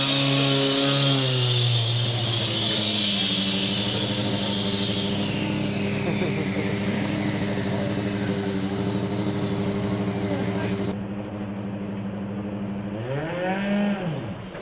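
A Formula Student combustion race car from the Stuttgart team fires up at a skidpad event, its engine droning loud and steady with strong harmonics before revving up near the end.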